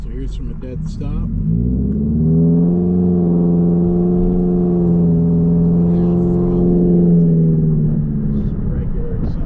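A Subaru XV Crosstrek with its muffler deleted pulls away from a dead stop, the exhaust rising into a loud, throaty rumble that climbs in pitch as it revs, then settles and fades near the end.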